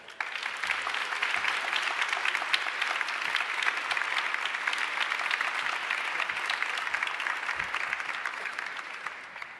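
A large audience applauds to welcome university president Eric Kaler at an internationalization conference, with sustained, even clapping filling the hall from start to finish.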